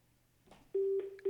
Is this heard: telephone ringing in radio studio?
yes